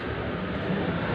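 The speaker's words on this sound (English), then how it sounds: "Plane is going over as I say that." Airplane passing overhead above a house roof, a steady low broadband engine rumble that holds at an even, moderately loud level throughout, with no voices.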